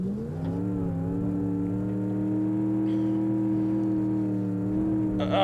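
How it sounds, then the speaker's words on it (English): A failing, overheated Gavril H-25 car engine in BeamNG.drive holds a steady, droning high rev for several seconds, loud and close, with a brief rise at the end. "Something tells me this engine is not doing well."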